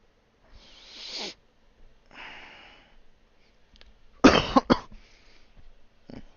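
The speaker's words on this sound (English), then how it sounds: "I do get a cough this time of year." A person coughs several times indoors, a soft hoarse cough and a sniff first, then a louder cluster of sharp coughs, near and otherwise quiet.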